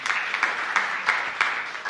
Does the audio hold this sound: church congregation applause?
yes